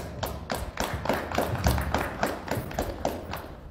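Applause at a university postgraduate school ceremony, a roughly rhythmic run of firm hand claps, close and fairly loud, settling into a steady beat with no talk over it.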